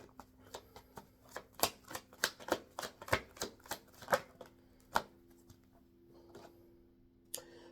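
Tarot cards shuffled by hand in a run of crisp, riffling flicks and taps, close and fairly quiet, with a few scattered clicks after the main burst and no voice over them.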